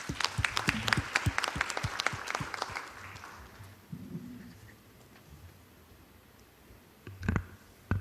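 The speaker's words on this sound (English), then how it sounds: "Please welcome him with a warm round of applause." Audience at a Korean research paper competition applauds to welcome a bank department speaker: sharp, sparse claps from a modest crowd that thin out and fade after about three seconds, leaving a quiet room with a few later thumps.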